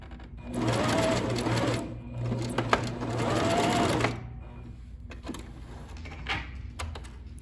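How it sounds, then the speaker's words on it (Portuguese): A sewing machine runs in two long stitching bursts, sewing a seam on a simple circular skirt, with a pause between them. Short clicks and handling noises follow as the machine stops. "E a gente vai costurar até o encontro da outra costura."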